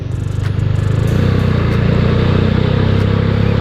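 A Rusi Classic 250 motorcycle with an aftermarket exhaust idles close by, a loud, steady, deep bass engine thrum with an even pulsing rhythm throughout, and no voices over it.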